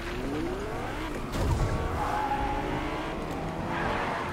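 Car tires skid and squeal in Fortnite, a sustained wavering screech with engine rumble underneath, loud and continuous throughout.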